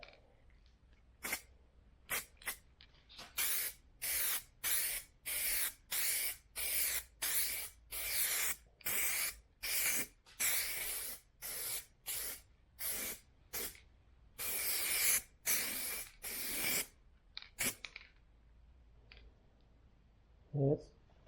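Spray gun bursts while painting a Harley motorcycle fairing, a long series of loud, sharp hissing passes of one to two seconds each, separated by brief pauses and heard close up.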